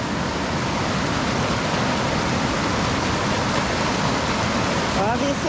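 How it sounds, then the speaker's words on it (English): Water running over a steep trail path makes a loud, steady broadband rush that fills the whole scene, with a brief voice near the end. "You can hear the water."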